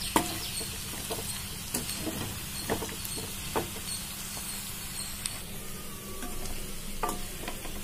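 A spoon stirs and scrapes chili masala frying in a pan, giving a steady soft sizzle with scattered light scraping clicks and taps, close and fairly quiet.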